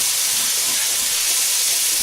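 Garlic sizzling in a hot pan while baked beans are being dressed up, a steady bright hiss that holds evenly throughout without pause, close and fairly loud, no talking.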